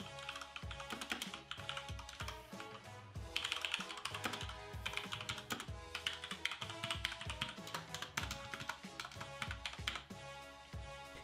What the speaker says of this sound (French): Je crois qu'il est temps que vous entendiez quel son procure ce clavier.